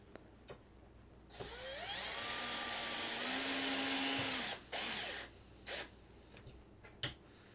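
A power drill drives screws into wooden bridge planks on a model railroad layout, one long whirring run rising in pitch, followed by a few short bursts, close and clear.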